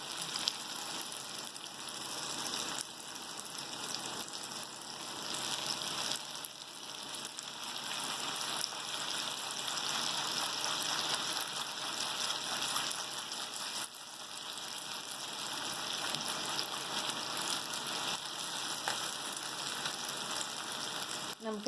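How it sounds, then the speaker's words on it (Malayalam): Achappam, a crisp Kerala rosette cookie, frying in hot oil with a steady, close sizzle that stays even and unbroken throughout, with no one speaking. "ഇതുപോലെ ബാക്കിയുള്ളതെല്ലാം നമുക്ക് ചുട്ടെടുക്കാം."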